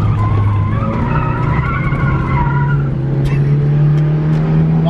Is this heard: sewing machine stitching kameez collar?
no